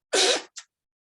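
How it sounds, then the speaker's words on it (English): A single sharp human sneeze bursts out close to the microphone, followed by a short breathy after-sound, then silence, in a quiet room during a math lesson. "Pause briefly while I sneeze."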